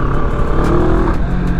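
A CFMOTO Adventura 650 motorcycle accelerates hard for a wheelie. The engine roars close and loud, and its pitch climbs briefly.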